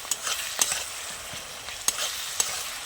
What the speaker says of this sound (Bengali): তো এইভাবে কিন্তু সব মশলা কিন্তু একসঙ্গে কষিয়ে নেবে